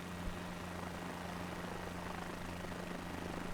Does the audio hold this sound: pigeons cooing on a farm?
no